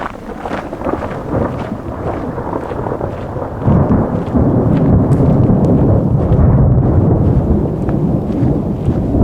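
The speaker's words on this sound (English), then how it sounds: "the size, the loudness of that strike of thunder" Loud thunder strike during a storm, a heavy low rumble swelling abruptly midway and rolling on at full strength to the end, mixed with rain and wind buffeting the microphone.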